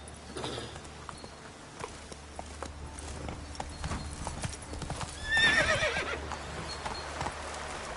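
A horse in The Witcher 3 moves along with rhythmic hoof clip-clops, then whinnies loudly midway while the hoofbeats continue.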